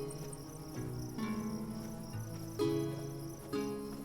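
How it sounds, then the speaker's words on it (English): Crickets chirp steadily in the Tainted Grail video game, a close, continuous trill that runs throughout with no voices. "Also, it's nice hearing crickets."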